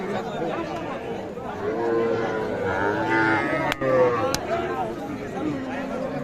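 Young bull and heifer calves moo at a crowded cattle market at Ambari haat, a few lowing calls rising through constant crowd chatter and nearby voices.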